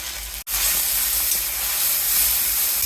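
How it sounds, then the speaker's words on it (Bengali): Small freshwater shrimp go into hot oil in a pan and give a loud, dense hiss right after a short silent gap. The sizzle then holds steady for the rest of the moment, with no talk. "দিয়ে দিলাম তেল চিংড়ি মাছ ভেজে নিব"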